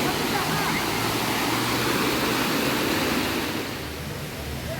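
A staircase waterfall in Estahban, Fars, Iran pours in a loud, dense, continuous rush close by, easing slightly toward the end.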